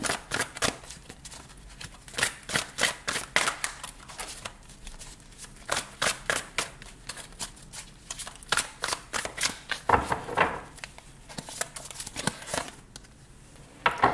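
Tarot cards are shuffled and drawn in a string of quick papery riffles and flicks, close and crisp, coming in bursts with short pauses between them. No one talks.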